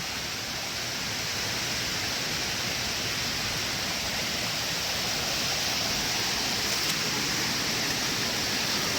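Cold mountain stream water flowing on a highland plateau near İskenderun, a steady broadband rush that stays loud and unchanging throughout, with no voices over it.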